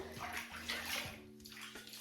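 Water sloshes and splashes as hair locs are washed by hand in a basin, the wet locs gently squeezed. The sound is close and soft, with steady swishing and dripping and no talk.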